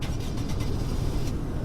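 A game car called the Terra starting up, a steady broadband engine rumble holding constant and fairly loud throughout, with no clear crank transient.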